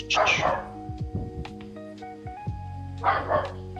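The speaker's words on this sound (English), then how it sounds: "No, there's the dog barking." A neighbor's dog barks in two loud bursts, one at the start and one near the end, with quieter yips and background game sounds between them.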